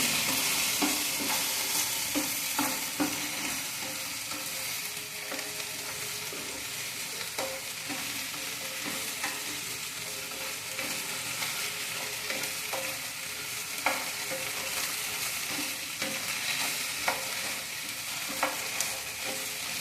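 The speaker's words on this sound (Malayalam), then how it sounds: "ഫ്ലെയിം ഫുള്ളി ഇട്ടിട്ടാണ് ഞാൻ വഴറ്റുന്നത്." Okra and pearl onions sauté on full flame with a pinch of turmeric for a tangy curry, with a steady close sizzle and frying hiss broken by frequent scrapes and stirring taps of a spoon on the pan.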